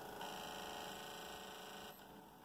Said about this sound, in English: The noise you're hearing is the digital valve control going to the preset positions